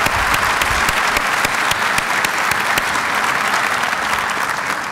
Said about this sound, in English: Please join me in giving these proud Highlanders a warm round of applause for all that they do.